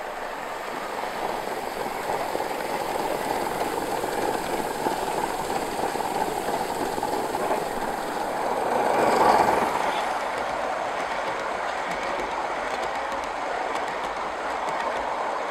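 A gauge 1 live steam model locomotive, 35028, runs along a garden track and picks up speed on a straight, giving a steady rolling rattle and hiss that swells briefly as it passes closest, with no talk.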